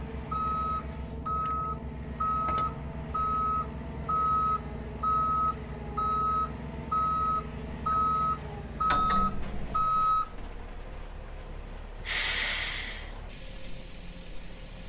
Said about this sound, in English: Well, concrete truck's here.